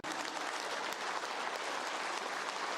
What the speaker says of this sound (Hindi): पॉजिटिव ताली बजा दी है